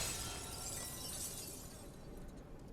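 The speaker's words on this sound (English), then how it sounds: "I could just break the display cases. Keep breaking glass." A glass display case shatters in the video game Dishonored, a dense burst of breaking glass that fills the moment and then thins out, fairly quiet overall.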